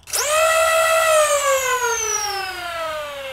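A brushless Stryfe Rayven Rapid Strike Swordfish foam blaster with adjustable RPM spins up its flywheel motors, a loud, close, rising electric whine that quickly peaks, then slowly winds down in pitch as the wheels coast to a stop, with no talk.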